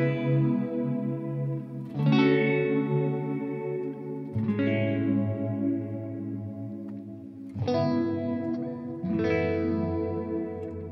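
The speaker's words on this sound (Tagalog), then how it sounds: "isang clean na may phaser and mas malakas na reverb" An M-Vave Tank G guitar pedal set to a clean tone with phaser and strong reverb: four strummed chords ring out in turn, each swirling and sustaining into a long wash of reverb, with no talking.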